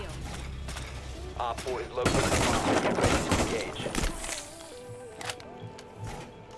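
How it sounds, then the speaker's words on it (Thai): Gunfire in the video game Rainbow Six Siege: rapid bursts of shots and mechanical clatter, loudest mid-clip, mixed with game sounds and occasional speech. "เขายิงผมก่อน ผมยิงกลับ"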